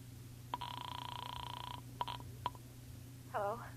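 An old telephone is dialed in a vintage detective radio drama, a sustained ringing tone followed by a few sharp clicks of the dial, heard faintly over a steady background hum before a voice begins.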